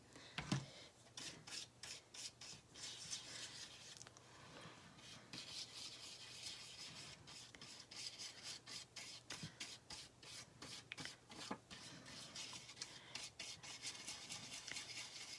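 Fingers steadily rub excess gold leaf off a gilded surface, making a continuous dry, scratchy brushing close by with no voices.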